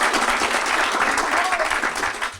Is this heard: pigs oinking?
no